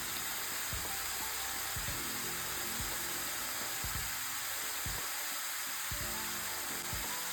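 Ginger garlic paste and turmeric powder sizzle steadily in a hot pan for paneer butter masala, a continuous frying hiss with occasional low knocks of a spoon against the pan.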